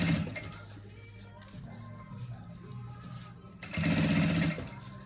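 A sewing machine runs in bursts as it stitches the rubberized nylon edge of a bag, its low motor hum steady and close, surging louder near the end; faint background noise, no talk.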